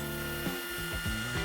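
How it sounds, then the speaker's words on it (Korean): A table saw with a sled cutting walnut, its motor whining in a steady tone that dips and shifts pitch several times as the blade bites into the wood, close and fairly loud. "테이블 소에 썰매를 이용하시면 우리가 직각으로 커팅을 손쉽게 하실 수가 있습니다"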